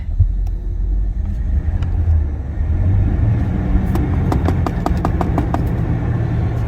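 The engine of a 1976 Jaguar XJ6 Series 2, being brought back from wrecked condition, idles steadily with a deep continuous rumble, close up, with a run of sharp ticking clicks partway through.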